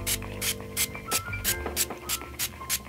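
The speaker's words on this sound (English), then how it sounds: "we're just gonna spray it on my ends and like brush it through" A hair product sprayed onto the ends of hair gives a run of about nine short, evenly spaced hissing bursts, fairly close and moderately loud, over a low background hum.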